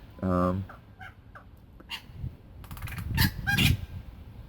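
Outdoor birds call in a few short honking, fowl-like bursts, loud and near, with a voice speaking between and over them.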